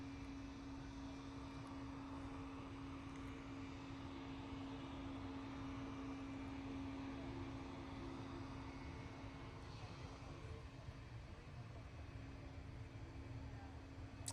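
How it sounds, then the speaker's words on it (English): A Swiss Airbus A220 arriving at Manchester Airport, heard as a steady, distant jet engine rumble with a faint sustained tone, continuous and even throughout. "We do have the Swiss actually, and I'd rather catch this on the arriving aircraft."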